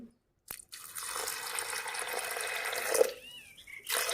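After a sharp knock, water pours steadily into a metal pressure cooker holding mung beans for a few seconds, then trickles and splashes briefly.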